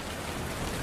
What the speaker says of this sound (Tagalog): Ba naman tong ulan na to?